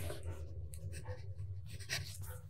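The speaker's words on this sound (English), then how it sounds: "The last writing sample is done on 20-pound copy paper." Fountain pen with an extra fine nib scratching across 20-pound copy paper, a close, quiet run of short strokes over a steady low hum.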